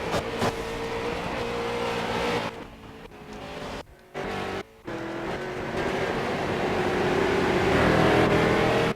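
Race car engines roar continuously in the iRacing simulator during a Street Stocks event at Phoenix International Raceway, a dense, loud drone that drops out briefly twice before swelling again, with no talking.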